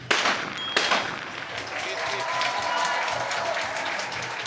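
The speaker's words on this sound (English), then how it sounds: "big applause from the audience here" Applause from spectators at a women's skeet shooting final at a world championship in Moscow, steady broadband clapping over crowd noise, with a sharp report near the start.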